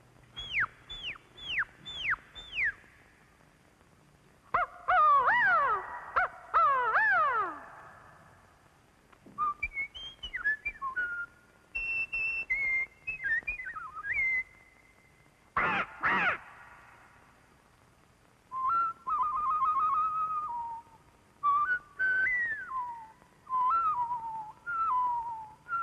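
A woman whistles realistic imitations of cartoon creatures and birds, a string of sliding, warbling and trilling phrases separated by short pauses, clear and alone without any talk.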